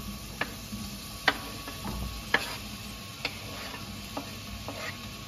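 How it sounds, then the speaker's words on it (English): A quiet, steady sizzle of zucchini frying in oil in a pan, punctuated by occasional sharp clicks and taps of a utensil. "Just a light sizzle, that's what you wanna hear"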